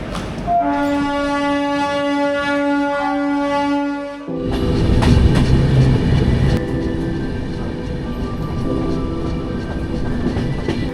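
A passenger train bound for Raxaul station sounds a long, loud multi-tone horn, then the heavy rumble and rhythmic clatter of the moving carriages take over and continue steadily to the end.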